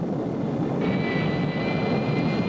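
An airliner roars down the runway on takeoff in a broadcast, a loud, dense, continuous jet engine rush with a whine rising partway through, and no voices.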